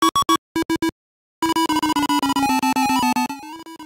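Atari 2600 Dig Dug game audio: short bursts of square-wave beeps, a brief pause, then a rapid run of buzzy chiptune notes stepping through a melody, loud and close with no voices.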